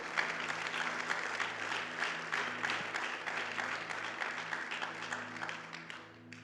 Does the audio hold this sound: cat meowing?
no